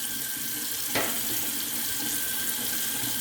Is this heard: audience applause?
no